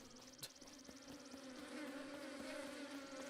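A swarm of bees buzzing steadily in Zelda Breath of the Wild, a continuous droning hum that swells slightly louder toward the end, with a faint click near the start and no voices.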